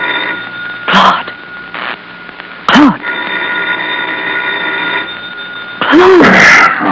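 An old-fashioned telephone bell rings in short bursts, a few separated trills with brief gaps, sounded as a radio drama effect, with a voice briefly audible between rings.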